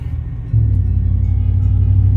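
A Silverado pickup truck with a straight pipe exhaust accelerates, a deep loud engine rumble that jumps up in level after a brief idle and holds a steady droning roar close by.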